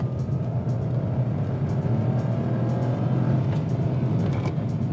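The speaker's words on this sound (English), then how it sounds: "it does have a little bit of that whine that comes through on the turbo" A small Nissan Magnite turbo car engine hums steadily at moderate revs with a faint turbo whine riding on top, continuous and fairly close.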